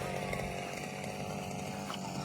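A grass cutter engine runs continuously at a steady, buzzing pitch, fairly close and loud throughout the short stretch.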